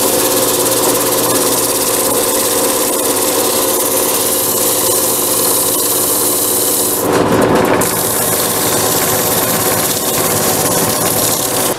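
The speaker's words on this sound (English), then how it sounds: "what I'm doing is I'm sanding it in the lathe." A wood lathe spins a table part as it is sanded, giving a steady, loud mechanical hum throughout with a brief rougher burst of sanding friction partway through.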